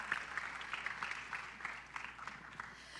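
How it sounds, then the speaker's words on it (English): Conference audience applauding panelists at an interfaith and ethnic tolerance session, a faint, even patter of many hands heard from a distance that stays steady for a few seconds. "Please give our panelists a round of applause one more time"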